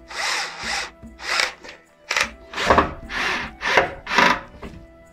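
A power drill drives a screw to countersink it into a wooden shelf, sounding as a series of short, close whirring bursts. Brief pauses separate the bursts, and no one speaks.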